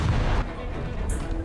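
Naval guns fire in a video game, a heavy booming battery in the first half second followed by rumbling echoes and a fainter burst near the end, loud and with no talking.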